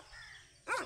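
A neighbour's dog gives a single short bark near the end, preceded by a faint quiet background hum.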